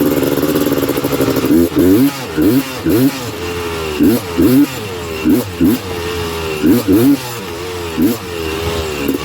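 A Honda TRX330R quad runs wide open on a trail ride, its engine note climbing and dropping in repeated revving surges near the rider, with a voice speaking over it now and then.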